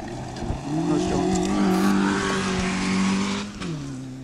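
A 205 rally car, an Ecosse Challenge entry, charges loudly toward a corner, its engine droning at steady high revs before easing off near the end, with faint tyre noise.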